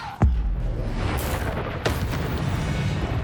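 In Hogwarts Legacy, a Confringo blasting spell goes off with a sudden booming explosion near the start, followed by a second softer burst over a dense rumbling game background.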